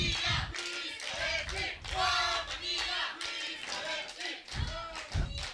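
Two teams cheer and clap at a youth compound archery individual final in Catez, with rhythmic chanting shouts and hand claps in repeated bursts, fairly distant and crowd-like, with a voice talking over them.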